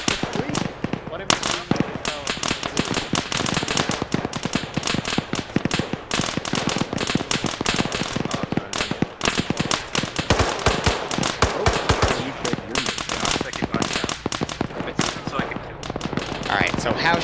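Dense video-game firefight in an urban Middle Eastern setting, with rapid, continuous gunfire and sharp cracks raining down from a ridge, loud and busy throughout with overlapping bursts and faint voices underneath.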